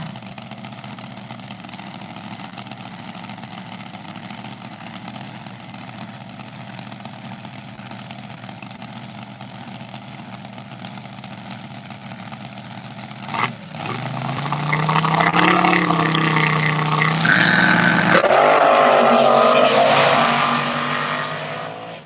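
Drag race cars, including a purple unicorn-themed car, launch down the lanes together, a low steady rumble at first, then a sudden loud burst of roaring engines that builds and holds as the cars pass close by.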